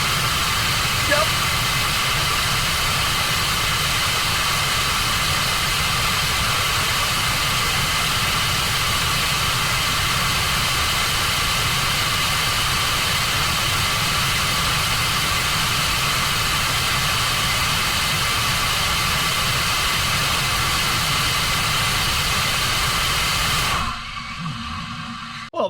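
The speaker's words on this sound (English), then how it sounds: "That's that engine is not throttled all the way up." A loud engine runs steadily below full throttle, a sustained broadband roar with a low rumble that holds for about 24 seconds before cutting off abruptly near the end.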